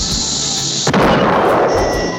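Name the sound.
cartoon rocket propulsion launch, Pink Panther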